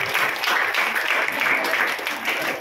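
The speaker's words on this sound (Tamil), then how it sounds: "நல்லா ஒரு கைதட்டு கொடுக்கலாம்." Audience members at a Tamil Nadu Women's Day ceremony for women police officers give a short, even round of clapping, a continuous dense patter with faint voices underneath.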